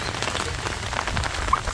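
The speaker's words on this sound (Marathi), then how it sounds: "पाऊस येतोय" Steady rain falling outdoors, a continuous dense patter of drops with no voices.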